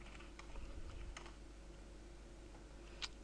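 Keys tapping on a computer keyboard at a desk, a few scattered light clicks rather than steady typing, quiet and close against a low background hum.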